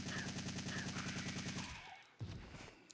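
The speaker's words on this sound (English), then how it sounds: "But you have a full auto assault rifle" Full-auto assault rifle in Resident Evil 3 (1999) firing a sustained rapid burst of loud game gunshots that cuts off near the end, followed by a few scattered sounds.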